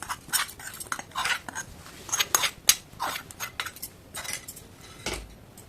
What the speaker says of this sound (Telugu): మొత్తం మిక్స్ చేసేద్దాం